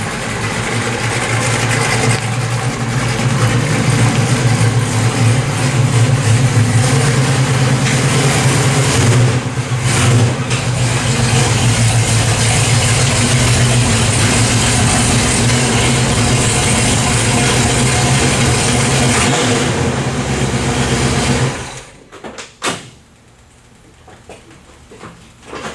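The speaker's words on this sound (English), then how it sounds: "you always have to give it that blip of throttle before you shut the car off" A Pontiac with Violator exhaust mufflers and Trans Am tips idles with a loud, steady low rumble, then a brief throttle blip before the engine shuts off into near silence.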